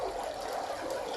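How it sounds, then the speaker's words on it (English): Steady rushing river water flows continuously, a broad even wash of sound with no pauses or other noises. "Sound of river"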